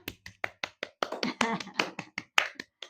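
A small audience claps by hand in a short burst of distinct, slightly uneven slaps that bunch closer together in the middle and thin out toward the end, close and fairly quiet.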